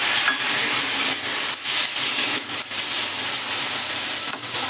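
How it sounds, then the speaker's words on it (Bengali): Boiled chickpeas stirred in a hot pan for a South Indian-style chole chaat, giving a steady broadband sizzle with soft scraping pulses from the stirring, close and loud, with no voices. "ছোলাটা দিয়ে নেড়ে নিলাম"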